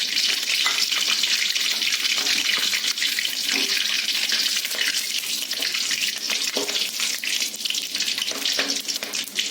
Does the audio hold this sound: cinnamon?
yes